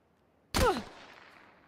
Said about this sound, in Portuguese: Quatro tiros de M16.